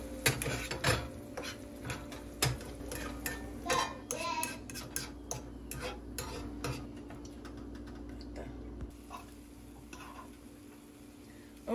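Eggs being stirred in a pan while cooking a breakfast tortilla, giving a steady run of light scraping and tapping clicks of utensil against cookware with a constant low sizzle underneath.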